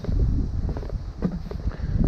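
Wind buffeting the microphone outdoors at a cycling hut, a steady low rumble throughout with gusty swells and faint rustling.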